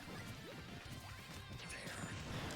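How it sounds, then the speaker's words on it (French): Explosion effect from a C4 charge detonating in a Super Smash Bros match, a loud crunching crash with a busy, dense game-sound backdrop running continuously throughout. "le C4 qui explose"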